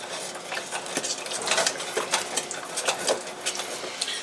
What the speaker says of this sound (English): I can hear and feel the bubbling of it on the bottom as I stir it